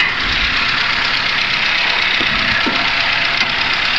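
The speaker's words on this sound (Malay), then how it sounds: "Kita akan matikan enjin supaya mengurangkan gangguan bising" A Toyota Avanza F651 with a sluggish, struggling engine idles in a workshop, giving a steady, loud, even rumble with faint knocking and no talk over it.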